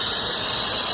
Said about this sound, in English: there's this crazy suction type sound that I can't explain